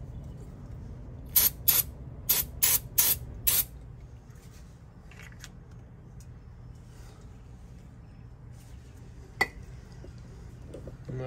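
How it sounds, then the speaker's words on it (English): Brake cleaner sprayed onto the brakes of a 3rd-generation Toyota Tacoma, heard as six short, sharp hissing bursts in quick succession, followed by quieter workshop ambience with a few faint knocks and clicks. "just spray it down a little bit with some brake cleaner"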